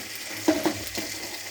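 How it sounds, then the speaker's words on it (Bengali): Ginger, garlic and onion frying in a pan: a soft sizzle with a couple of quick stirring scrapes, close and short. "আদা রসুন পেঁয়াজটা একটু লাল করে ভেজে নেব বন্ধুরা দেখো।"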